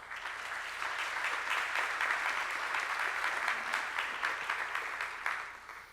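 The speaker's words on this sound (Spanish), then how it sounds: "Un aplauso." Sustained applause from a crowd, steady dense clapping throughout with no voices over it.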